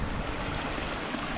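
A river flows downhill into a reservoir along a Welsh upland walking route between Llanidloes and Dylife, making a steady, close rushing and babbling of water that runs unbroken with no voices.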